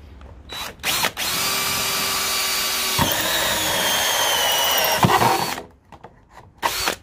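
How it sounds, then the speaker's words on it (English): A power drill with a hole saw cuts through a square gutter downpipe, a loud, steady whine with a grinding edge that lasts about four seconds, stops for a moment, then winds down, close up. "you take a drill, you drill a pilot hole,"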